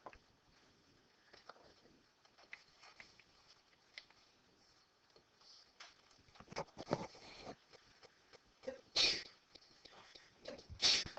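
A sharp sneeze bursts out near the end after a quiet stretch of faint rustling and soft movement, followed by another brief burst.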